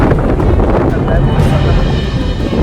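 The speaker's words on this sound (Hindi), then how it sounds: "गाइस बहुत तेज तूफान आ चुका है, इतना तेज अचानक से" Strong, sudden storm wind blowing hard into a microphone outdoors, a loud continuous low roar and buffeting rumble, with someone speaking over it.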